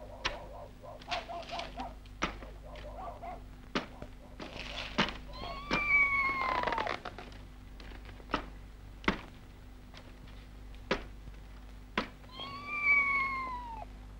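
A cat meows twice in a rural Vietnamese home, drawn-out cries separated by sharp knocks and thuds, with no one speaking.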